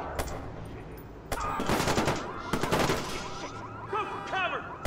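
Gunfire in the Watch Dogs video game: rapid automatic bursts and sharp single shots crackle over a few seconds, mixed with game effects and faint voices.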